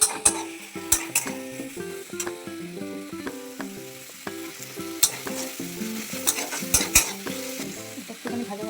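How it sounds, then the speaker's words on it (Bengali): Chopped garlic and ginger paste fry in hot oil in a pan with a steady close sizzle, while a spoon scrapes and knocks against the pan in quick repeated strokes, and no one speaks. "এখন একটু ভাজা ভাজা করবো। ভাজা ভাজা করছি, তার মধ্যে দিয়ে দেবো রসুন কুচো, আর দিয়ে দেবো আদা বাটা।"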